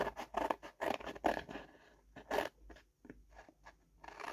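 Scissors snip through sticker sheets for a handmade mail craft, a series of close, crisp cuts in uneven bursts with short pauses between, no talking.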